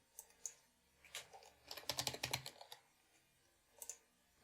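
Quiet typing on a computer keyboard while entering text in Cinema 4D: scattered single key clicks, then a quick burst of rapid keystrokes, then a couple more taps, close and soft with no speech.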